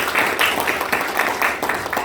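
Applause from a church business fellowship installation ceremony audience, a steady crowd clapping with dense rhythm throughout, fairly loud and close, without talk over it.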